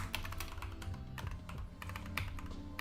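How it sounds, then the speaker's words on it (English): Typing on a computer keyboard while coding, a fast irregular patter of crisp key clicks, close and quiet, continuing alone throughout. "While I'm typing with this boilerplate,"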